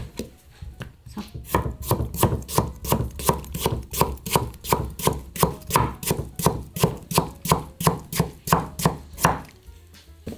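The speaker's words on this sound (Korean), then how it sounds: "한번 썰어 볼게요." A knife chops radish and chilli for dongchimi on a cutting board, about twenty crisp, evenly spaced strokes, close and clear, with no talking.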